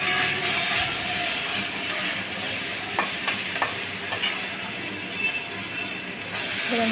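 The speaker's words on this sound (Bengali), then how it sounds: "এবার কড়াইতে তেলের মধ্যে ছোলা দিয়ে দিয়েছি ভাজার জন্য" Chickpeas for a vegetarian taro-leaf (kochu shak) dish sizzle and crackle in hot oil in a kadai while being stirred, with steady frying hiss and occasional scraping knocks, close and loud without talk.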